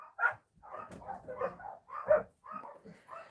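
Dogs bark in a run of short, close, moderately loud bursts with small whimpering yips between them, and no talking.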